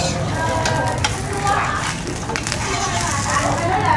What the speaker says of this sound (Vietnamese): Vậy để em chiên lại cho.